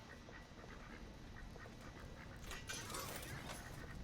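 Ducks quack in the Little Inferno video game, a few calls clustered near the end over a steady, dense crackling and rumbling bed of background noise.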